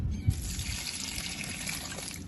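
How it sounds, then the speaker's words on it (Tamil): Water is poured steadily onto plants in a rooftop garden, a close, continuous trickling splash with a brief louder spatter at the start. "இப்போ இதுக்கு தான் நான் வந்து இந்த தண்ணி ஊற்றுறேன்"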